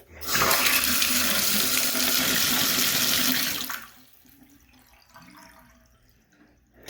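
Water rushes loudly and steadily in a bathtub for a few seconds, then cuts off, leaving a quiet, uneven gurgle of draining water.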